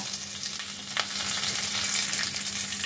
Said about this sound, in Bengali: প্রথমে আমি তেলের মধ্যে দিয়ে দিচ্ছি গোটা জিরে, আর দিয়ে দিচ্ছি তেজপাতা